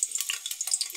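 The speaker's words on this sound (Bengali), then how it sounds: "আমি প্রথমে এই তেলে আলুটা ভেজে নেব।" Potato pieces fry in hot oil, a close, steady crackling sizzle with bright spitting pops and no talk.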